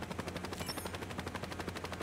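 A helicopter in the video game Saints Row gives off a steady, rapid rotor chop, a fast even pulsing that stays moderately loud throughout.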